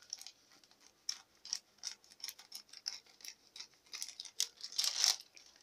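Scissors cut the edge off a crinkly chip bag in a quick series of close snips and rustles that grow louder toward the end, with no talking.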